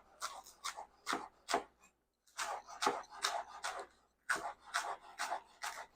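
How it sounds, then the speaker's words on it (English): A knife chopping a stalk of green onion on a cutting board: quick, crisp taps in short bursts with brief pauses between them, close and fairly quiet, with no talking. "Just chop it up nice and proper."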